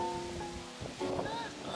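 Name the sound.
strong wind blowing outdoors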